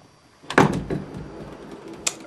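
A door is opened up close, with a few sharp clunks and rattles of the latch and frame, then a quieter pause and another brief knock near the end.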